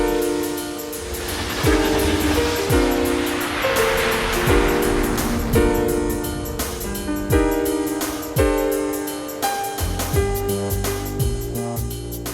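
A train rumbles past close by near Millennium Park in Chicago, with horn blasts and steady rail noise over about twelve seconds.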